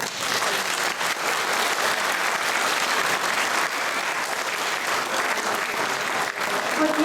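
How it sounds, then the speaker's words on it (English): An audience at a school Grandparents Day event applauds continuously, dense clapping that stays loud and steady throughout. "Give them one more big clap."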